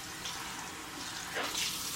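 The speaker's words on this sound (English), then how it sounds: "let's get rinsed off here." Tap water runs steadily into a bathroom sink while someone rinses off after a shave, a continuous close splashing hiss that swells slightly near the end.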